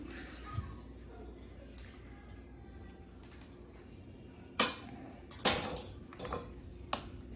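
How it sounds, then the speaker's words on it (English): Chipotle peppers and smoked paprika are mixed in a bowl with a utensil. Quiet handling gives way to a cluster of loud clinks and scrapes near the end, followed by a final sharp tap. "Give that a little mix."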